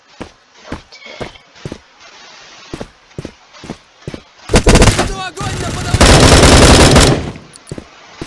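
Gunfire in the first-person shooter Bullet Force: spaced single shots crack out steadily, then dense bursts of rapid automatic fire roar, loud and close.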